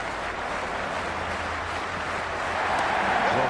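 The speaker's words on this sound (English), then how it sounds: "We're about to get underway and already the crowd is up and about." Stadium crowd in the Cricket 26 video game, a Brisbane Heat versus Perth Scorchers Big Bash T20 match, giving a steady broad roar of cheering that swells slightly toward the end, continuous and without talk.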